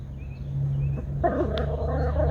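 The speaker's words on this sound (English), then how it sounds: "The barking and growling was my little puppy" A small puppy barks and growls in short bursts, fairly close, over a steady low hum, with yips and whimpering tones toward the end.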